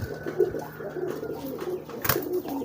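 Pigeons coo in low, soft, rounded calls that repeat close by, with light rustling and background noise around them.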